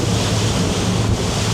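Steady, loud wind buffets the microphone while water rushes and sprays against the hull of a Scimitar 1010 boat running into the wind at over 10 knots, continuous with no speech.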